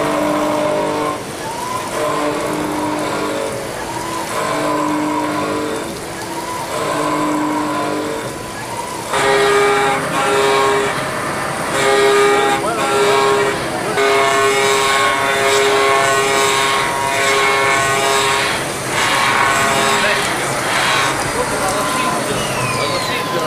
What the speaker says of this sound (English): load up a bare casting and let the A560 go to